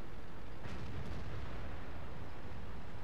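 An E100 heavy tank fires its cannon in the World of Tanks game with a loud, deep boom and a sharp crack early on, followed by a sustained rumbling roar of battle noise, with no talking.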